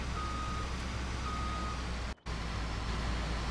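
Reversing alarm beeps from a vehicle backing off a trailer in the farming video game Farming Simulator 17, a steady thin tone repeating over a constant engine rumble, with a brief dropout near the end.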